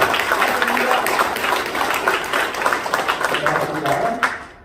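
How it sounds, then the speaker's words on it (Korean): Audience applause welcoming guests at a Korean political party regional federation launch ceremony, a loud, continuous patter of clapping with a voice talking over it and fading at the end. "큰 박수로 맞이해 주십시오."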